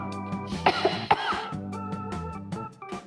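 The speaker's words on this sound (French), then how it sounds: "Pour tousser, on tousse une ou deux fois, d'un coup sec" A couple of short, sharp coughs stand out over a low, steady hum, close and moderately loud, with quieter background sounds after.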